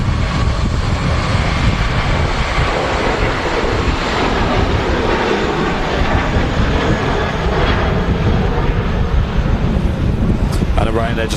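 Airliner departing Manchester Airport, a loud sustained jet engine roar with wind buffeting the microphone, steady for the whole stretch with people talking over it.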